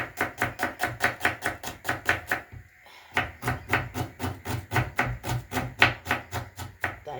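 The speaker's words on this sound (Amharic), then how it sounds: "የፉል ሽንኩርት አከታተፍ እንደዚህ ነው የሚከተፈው። እሺ ድቅቅ ብሎ ነው የሚከተፈው።" Onion finely chopped with a knife on a board for a ful breakfast: a rapid, steady run of close, crisp strikes, broken by one short pause before the rhythm resumes.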